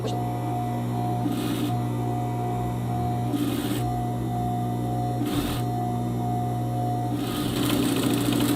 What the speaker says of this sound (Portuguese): Vou costurar essa segunda costura só dando um pezinho de máquina de distância da minha dobra.